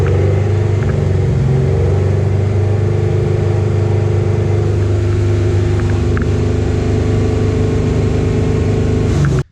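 A car engine held at a steady, loud, high-idle drone of around 3,000 RPM, with a sustained mid-pitched hum that cuts off abruptly at the very end.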